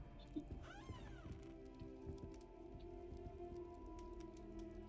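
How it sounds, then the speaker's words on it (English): A cat meows in Hogwarts Legacy, a single rising and falling cry near the start, heard fairly close over a low, steady game ambience and music bed. "Kitty!"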